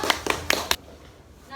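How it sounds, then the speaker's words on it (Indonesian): Classroom of children giving a group of classmates four quick, loud, rhythmic claps in unison, then falling quiet with faint room noise. "beri tepuk tangan untuk kelompoknya Adit dan Fajar."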